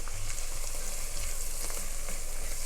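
A quarter cup of flour is stirred into a hot pan for spicy corn chowder, with a steady, moderately loud sizzle and a few soft scraping strokes throughout.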